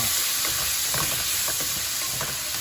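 Big pieces of onion and carrot sizzle steadily in a hot pan, a dense continuous frying hiss with light stirring clicks, close and even throughout.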